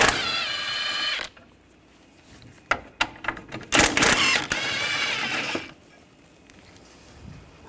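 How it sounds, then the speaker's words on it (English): A cordless power tool with a 13mm socket spins radiator bolts out of a 2013-2022 Buick Encore 1.4L, making whirring bursts of a second or so with ratchety clicks and metallic knocks between them, close up. "Using a 13mm socket, take these bolts out."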